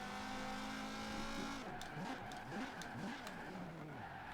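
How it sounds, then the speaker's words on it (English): A Volvo 850 tuned for dirt in a racing game holds a steady engine drone, then its revs rise and dip repeatedly with faint tire scrabbling as it slides through a short e-brake drift. "As you can see, I can do like an e-brake drift for a very short period of time."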